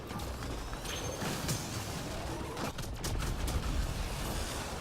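Explosions in a video game, a dense, continuous rumbling roar with scattered sharp bursts, fairly faint throughout with no talking.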